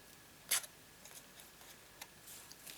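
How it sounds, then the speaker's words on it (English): Scissors snip through scored card for a flip flap shutter card, a crisp quiet cut followed by a few faint small clicks and rustles in a still room. "and then I'm going to cut that off."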